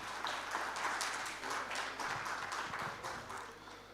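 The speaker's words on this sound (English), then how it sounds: "please extend a very warm applause for the UBL Bank" Audience applause at a digital banking and payments summit and expo, a soft, somewhat distant patter of many hands that swells and then tapers off gradually.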